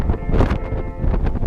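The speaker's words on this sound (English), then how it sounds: "It's very windy" Strong gusts buffet an action camera's microphone on a gimbal mounted on a bike, making a loud, continuous rumbling roar that swells and dips with the wind.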